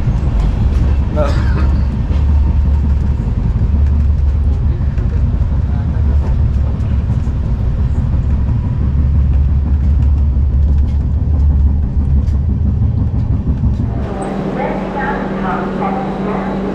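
At Asansol station, the Mithila Express rumbles in with a loud, continuous low roar and rattle. The sound changes abruptly near the end as the noise shifts, with voices around it.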